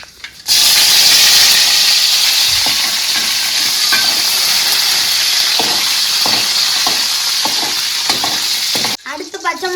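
Mustard seeds and curry leaves hit hot oil with a sudden loud burst of sizzling that holds steady with crackling pops for several seconds, then cuts off abruptly.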